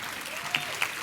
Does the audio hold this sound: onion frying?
no